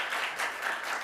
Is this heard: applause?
yes